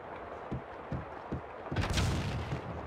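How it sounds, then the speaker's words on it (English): Explosion in the video game Max Payne 2: a few muffled thuds lead into a heavy rumbling blast that swells and lingers, loud and close, with no talk over it. "The building trembled as in a seizure. The sound of an explosion came from the direction of my apartment."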